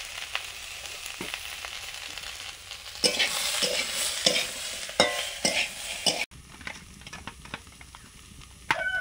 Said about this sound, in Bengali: বিনস আলু ভাজা করছি।